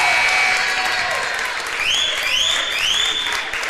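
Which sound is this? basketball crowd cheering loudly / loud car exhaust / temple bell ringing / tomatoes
basketball crowd cheering loudly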